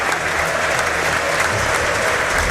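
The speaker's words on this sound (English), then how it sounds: "join a moment's applause from the Burnley players, the Forest players, and all the crowd here at the City ground" Sustained applause from a football stadium crowd at the City Ground during a Premier League match between Nottingham Forest and Burnley, a dense, even roar of clapping that stays loud and steady throughout.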